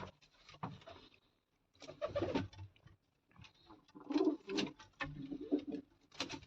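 Soft, low coos of a female Shakhi pigeon repeat in short bursts, fairly close, with some rustling and shuffling between calls.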